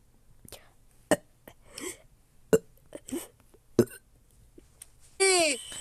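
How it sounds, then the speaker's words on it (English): Several short, croaky burp-like cartoon creature noises pop out one by one amid quiet pauses, ending with a louder warbling squeal. "They sound like burps."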